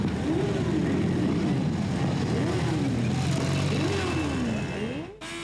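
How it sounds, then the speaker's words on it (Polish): Heavy motorcycles at a motorcycle rally by a castle, engines revving loudly in rising and falling sweeps over a continuous roar of crowd and outdoor noise. "A w Chobieni było za to bardzo głośno na zlocie motocykli ciężkich i zamczysku."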